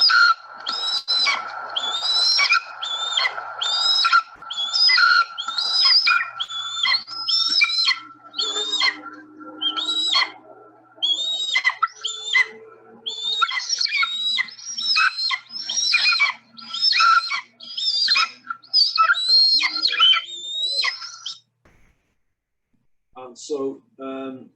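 Raptor chicks in a Cheshire nest give a long series of harsh, repeated begging calls, loud and close, in rhythmic bursts that go on for about twenty seconds before falling quiet, then a few fainter calls.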